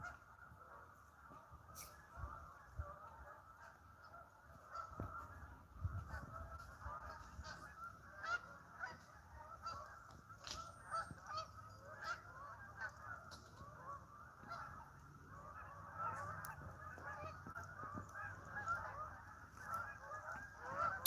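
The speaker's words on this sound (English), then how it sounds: "Hey, you Canadians, stop sending your geese over here." Faint, distant honking of a flock of Canada geese, calls overlapping continuously over a low background rumble, with no talking.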